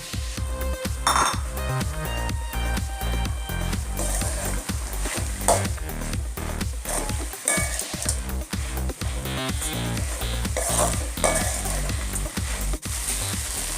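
Mint and grated coconut are sautéed in a pan for Chettinad puthina thovaiyal, a spatula clinking and scraping against the metal in a steady, loud, rhythmic stir.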